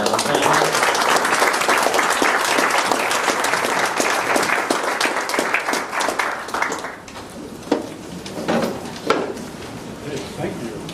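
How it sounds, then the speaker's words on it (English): A conference audience applauds a planning panel on Long Island's East End: dense, sustained clapping that thins after about seven seconds into a few scattered claps. "Just ask you to another round of applause for our panel."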